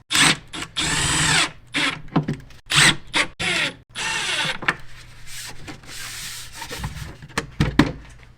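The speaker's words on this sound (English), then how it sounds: "I am going to just put a few screws in to hold this here." A power drill drives screws into wood for shelf dividers, loud close whirring bursts of a second or so each, separated by brief stops and handling noise, with quieter rubbing and clatter toward the end.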